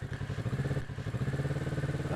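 A motorcycle engine revs up and down in quick repeated pulses, a close, chugging throb with a steady mechanical clatter, and no talk over it.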